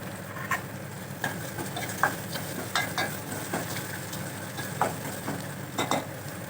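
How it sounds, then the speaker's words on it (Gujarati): Potatoes seasoned with turmeric and salt cooking in a pan, a low steady sizzle punctuated by repeated light scraping and stirring taps, fairly close and without talk. "આપણે એમાં થોડી હળદર નાખશું, સ્વાદ પ્રમાણે મીઠું નાખીશું, થોડીક વાર બટેટા આમને ચડવા દઈશું."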